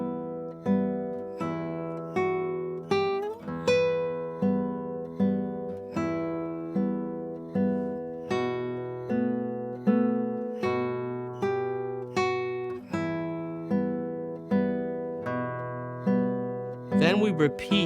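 Eight measures of the classical guitar waltz "Vals" play solo, with a steady plucked bass under chords on the middle strings in an even three-beat rhythm, close and clear, ending in a brief strum.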